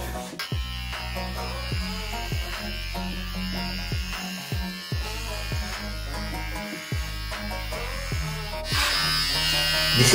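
A cordless electric shaver, plugged in while running, buzzes steadily through a beard, its motor pitch dipping repeatedly as it bites into the hair, close and fairly loud throughout.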